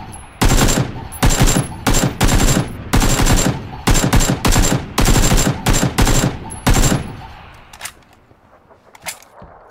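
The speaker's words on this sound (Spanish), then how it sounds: "Hay tiros por aquí" Automatic gunfire in the battle royale game PUBG, loud rapid bursts repeated in a steady run of volleys, then thinning to a few scattered distant shots near the end.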